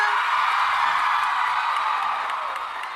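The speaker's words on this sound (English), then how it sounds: "Please keep your applause going" A Comic-Con panel audience keeps up dense, continuous applause with scattered whoops, a broad crowd roar that stays steady and fairly loud before easing slightly at the end.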